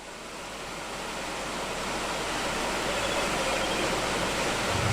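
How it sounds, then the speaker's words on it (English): A nearby river flows in a steady, broadband hiss like white noise, its wash growing slightly louder over a few seconds with no other sounds on top. "There's a lot of white noise in the background. That's because there's a river flowing nearby."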